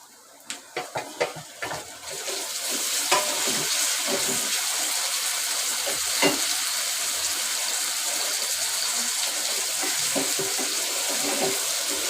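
Chopped tomato drops into browned onions in a hot pan for Malvani-style sukka chicken, a few soft thuds and then a loud, continuous sizzle that holds steady.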